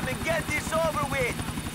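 In the video game GTA IV, a helicopter flies with a steady rhythmic rotor thumping beneath someone talking throughout.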